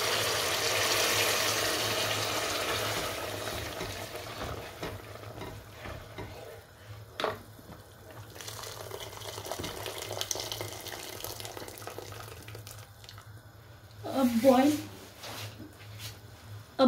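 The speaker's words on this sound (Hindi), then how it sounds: "अब इसमें हम डालेंगे पानी।" Water is poured into fried masala in a cooking pot for chana pulao, splashing and hissing at close range, with kitchen clatter and a louder bubbling burst near the end.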